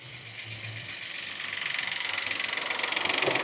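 A Peugeot 208 PureTech petrol engine idles just after starting, giving a steady, fine, rapid ticking whir that is close and moderately quiet, with no voices over it.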